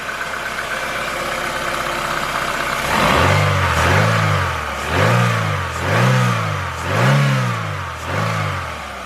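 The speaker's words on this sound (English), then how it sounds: "Okay guys, we start the car." A Holden Barina TK small petrol car engine fires up partway through after a steady background hum, then revs repeatedly in about five rising and falling surges, loud and close with no talking.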